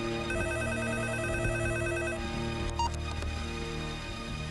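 A telephone rings with a repeating electronic bell pattern at moderate volume, then a short handling click follows and no one speaks.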